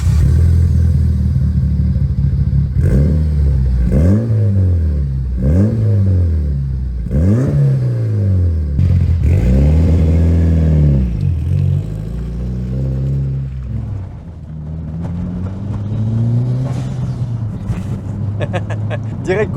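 Mitsubishi Lancer Evo 8 engine revving loudly and close as the car pulls away, climbing through repeated rising and falling sweeps as the gears change, then settling into a steadier drone.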